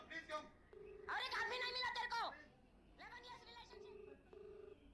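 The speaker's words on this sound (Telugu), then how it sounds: "ప్రస్తుతం అక్కడ లావణ్య ఫోన్ రింగ్ అవుతోంది" A phone's ringback tone repeats in short electronic beeps while a musical, voice-like tune plays over it at low volume.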